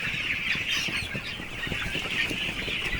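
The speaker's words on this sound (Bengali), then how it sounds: "মুরগিগুলো দৌড়াদৌড়ি ছোটাছুটি করে খাবার গ্রহণ করার জন্য পাত্রের কাছে দৌড়াদৌড়ি লাগাই নিচ্ছে।" A flock of hungry chickens clucking and squawking together as they rush toward a feeding pot, a busy, continuous chorus of overlapping calls at moderate volume.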